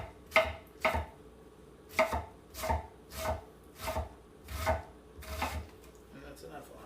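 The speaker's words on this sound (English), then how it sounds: "Make a couple horizontal slices, making sure to keep your fingers up." An onion is sliced with a knife, about ten distinct chopping strokes in an even rhythm, each a crisp cut landing with a soft thud on the board, close and unaccompanied.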